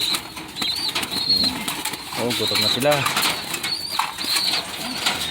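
Racing pigeons in a loft coo and flap their wings close by, soft cooing and a few wingbeats under steady conversational talk in Filipino.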